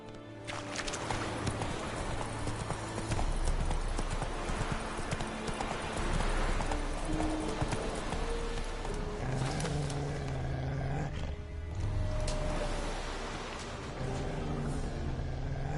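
A horse gallops with continuous clip-clop hoofbeats in The Witcher 3, over a dense, loud game soundscape with low rumbling ambience.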